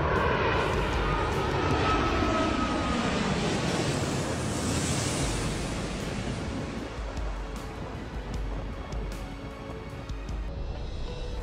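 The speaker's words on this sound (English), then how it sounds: "The ghostly scene of Evar Air's Boeing 777-300 landing?" EVA Air Boeing 777-300 airliner landing, a loud steady jet engine roar with a falling whine that gradually eases, continuous and close throughout.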